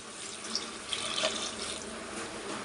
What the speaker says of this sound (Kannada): ನಾನಿವಾಗ ಇದಕ್ಕೆ 1 ಚೊಂಬು ನೀರು ಹಾಕ್ಕೊತಾ ಇದ್ದೀನಿ.